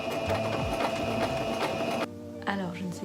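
A borrowed sewing machine stitching in a steady fast mechanical whir, which stops partway through. Someone speaks over it.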